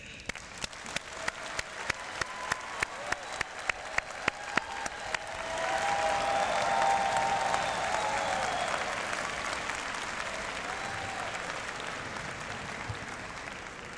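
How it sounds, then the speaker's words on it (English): An audience at a university convocation applauds new graduates: a few scattered, rhythmic claps build into a full, sustained round of applause that fills the hall and slowly eases off. "I think we should congratulate our new graduates with a round of applause"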